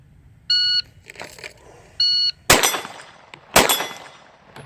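Two sharp rifle shots fired at a small disc target, each a loud broadband crack with a ringing tail, preceded by two short electronic beeps from a shot timer.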